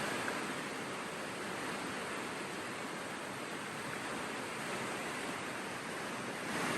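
River water rushes steadily and continuously in Lovero, Italy, a constant close hiss of flowing current with no voices.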